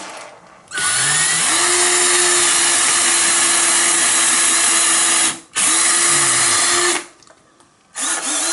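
A power drill whirs loudly in two long bursts, pre-drilling into a wall, spinning up with a rising pitch and grinding steadily, then a brief third start after a pause.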